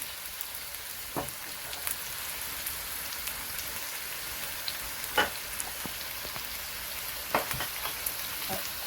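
Chopped onions and coarse ginger fry together in a pan for mixed vegetables, giving a continuous soft, hissing sizzle with scattered sharp pops and crackles breaking through every few seconds.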